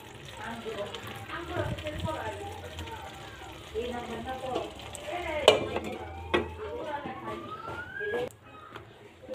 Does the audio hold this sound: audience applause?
no